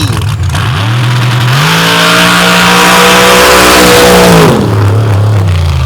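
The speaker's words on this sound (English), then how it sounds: "Shane O'Rogie rolls out now, filling in for Kelby Ladner as this machine came out of the racing in the dirt shop" Dirt track race car from a racing shop in Cleveland, Wisconsin, rolling out: a very loud, close engine roar that revs up and holds high before dropping back to a lower rumble.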